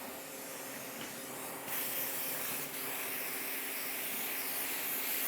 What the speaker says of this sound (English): The reason I'm spraying so close is I'm trying to keep my overspray down to a minimum.